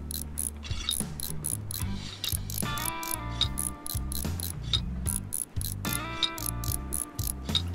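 Bolts are screwed in Train Mechanic Simulator 2017, a loud run of rapid ratcheting clicks over mechanical whirring, in repeated bursts with rising tonal spins between them.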